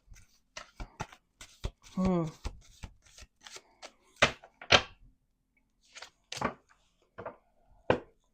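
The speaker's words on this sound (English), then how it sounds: "2 more shuffles. 1 more shuffle." Tarot deck being shuffled by hand in a series of crisp riffles and taps, close and loud, with a person talking between the shuffles.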